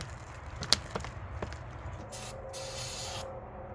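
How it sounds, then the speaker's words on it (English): Carburetor cleaner hisses from an aerosol can into a John Deere lawnmower engine, a couple of short close bursts preceded by light clicks and knocks, with no voices. "See if we can keep it running for a minute with some carburetor cleaner."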